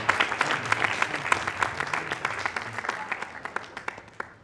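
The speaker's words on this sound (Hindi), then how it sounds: "तालियों से इनको आपको विदा करना है।" Audience applause at a student event on nutrition, a dense crowd clapping steadily for several seconds with sharp individual claps on top, fading toward the end.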